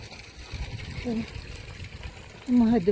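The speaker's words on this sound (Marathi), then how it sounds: "इथे गोमुखातून पाणी येतं कंटिन्युअस" Water flowing continuously from a cow-mouth spout into a temple water tank at Madhyamaheshwar, a steady rushing gush heard close up under someone speaking.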